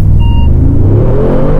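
Brief, loud full-throttle launch of a Mercedes-AMG G63, a deep engine roar climbing steadily in pitch, with a short electronic beep at the start.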